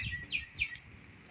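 Short bird chirps outdoors, two or three brief high calls close together over a quiet background, with no talking.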